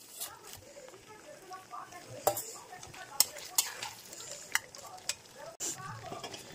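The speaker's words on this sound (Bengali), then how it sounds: "এবার তেল ছেড়ে দিয়েছে, মাছগুলো দিয়ে দেবো।" Katla fish pieces go into hot oil in a pan and set off a steady sizzle, with a few clinks from the pan and utensil, while a person talks over it.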